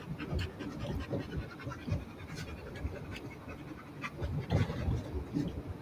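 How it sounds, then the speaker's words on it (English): A pet dog panting steadily and close by, quick rhythmic breaths running throughout with faint scratching and shuffling, indoors in a room with an air-conditioning vent. "Let me get my dog together."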